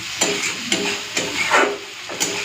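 A spoon scrapes and stirs kochu loti (taro stolon) curry in a pan, several brisk strokes over a soft steady sizzle, close and moderately loud with no voices.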